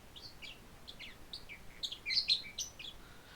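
A pet bird repeats a string of sharp, high chirping calls, starting soft and getting louder and more insistent in the middle before tapering off, clear against a quiet background.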